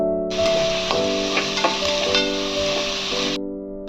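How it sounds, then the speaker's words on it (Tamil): Onion, garlic, chili and spices sauté in a hot pan with a continuous sizzle, broken by a few sharp clicks of stirring and scraping, close and steady for a few seconds. "வெங்காயம், பூண்டு, கொத்தமல்லி தழை, பச்சை மிளகாய் நல்லா வணக்கிக்கலாம்"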